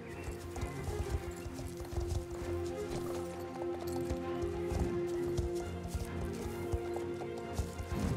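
Horse hooves in the online riding game Star Stable Online: steady, rhythmic clip-clop of a horse riding along, fairly quiet and continuous, with game music and ambience underneath.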